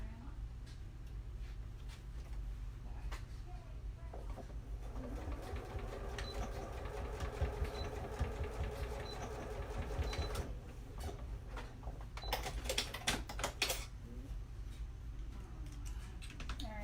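A sewing machine stitches a bar tack on a track pants pocket in a quick mechanical rattling burst, stopping and starting, with someone talking over it and a faint steady hum beneath.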